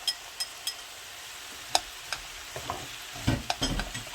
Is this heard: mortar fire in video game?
no